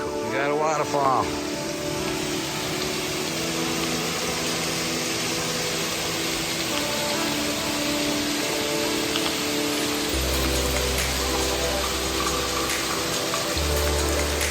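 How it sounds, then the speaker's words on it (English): A waterfall along the Appalachian Trail pours in a steady, broadband rush that holds unbroken throughout, with brief low thumps and a voice faintly audible beneath it. "We got a waterfall."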